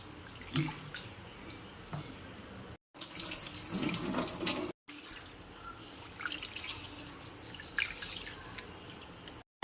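Soaked urad dal and fenugreek rinsed under a running kitchen tap, water splashing steadily into a sink with two brief pauses, close and fairly loud.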